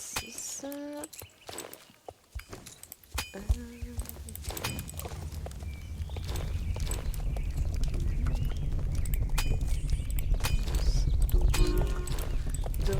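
Horse hooves clip-clopping in a video game, a steady rhythmic trot that builds into a continuous stream of hoofbeats under rumbling game background sounds.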